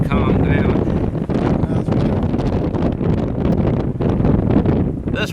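Strong, gusty wind buffets the microphone outdoors at a shooting range, a loud continuous broadband roar with surges throughout, with some voice mixed in.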